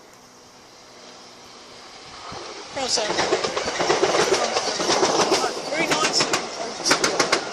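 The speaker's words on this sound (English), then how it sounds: "You beautiful locomotive! Just look at you, you can toot!" A locomotive rolls past a railway junction, its wheels clattering in a steady clickety-clack that grows louder and closer, with birds faintly in the background and someone speaking briefly.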